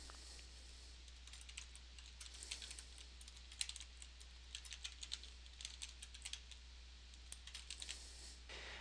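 Light, quick tapping on a computer keyboard, close but faint, in irregular bursts of keystrokes over a steady low hum, with no one talking.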